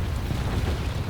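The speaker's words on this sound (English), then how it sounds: "Oh shit, bombs coming." Heavy bomb blasts in a War Thunder realistic tank battle, with a Jpz 4-5 tank destroyer under air attack: a dense, continuous low rumble of explosions that stays loud and steady throughout, with no talk.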